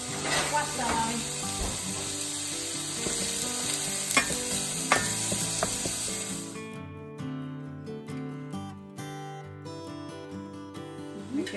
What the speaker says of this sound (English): ora mettiamo la cipolla